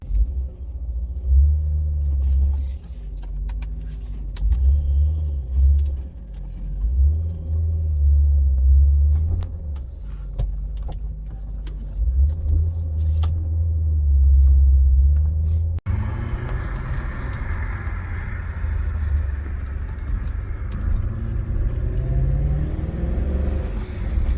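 A 2000 BMW E39 M5 driving, its engine a deep, fairly quiet low rumble that swells and eases with the throttle, then shifts to broader road and wind noise partway through.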